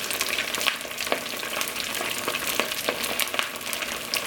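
Vegan rice ball frying in hot oil, a steady dense sizzle with crackling pops throughout, close and fairly loud, no voices.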